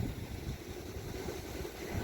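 Steady wind rushes and buffets, with low rumbling gusts and no voices.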